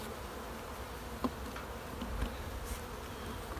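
Honeybees buzz in a steady, faint drone around an open, honey-filled hive being inspected from the side, with a few louder individual bees passing close and no talk.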